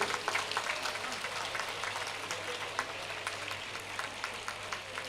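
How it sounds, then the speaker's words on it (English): An audience applauds schoolchildren at a world record event in Pondicherry, a soft sustained patter of many hands heard from a distance over a low steady hum. "all of you need a big applause for all that you have done today"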